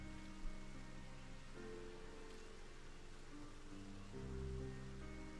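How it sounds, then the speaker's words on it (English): Rainfall in Final Fantasy XIV, a faint steady patter and soft wash beneath low droning game ambience and music tones, with a brief swell toward the end and no voices. "Oh, it's raining."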